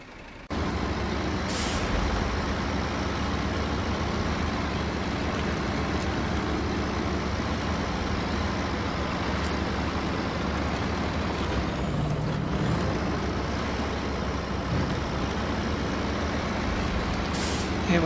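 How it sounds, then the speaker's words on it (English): A SnowRunner truck's tires spin in mud on the Imandra map: a loud, steady broadband churning roar with an engine-like drone that runs unbroken for the whole stretch. "It was still making the sound effect for the tire spinning in the mud long after I let off the button"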